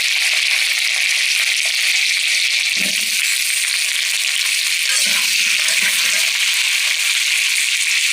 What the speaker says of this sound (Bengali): ভাজার জন্য আলু দিয়ে দেবো।